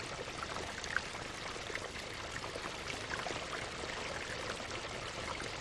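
Waterfalls spill over stonework in a riverside garden at the 1990 National Garden Festival, making a continuous, even rush of pouring water heard alone without any voices.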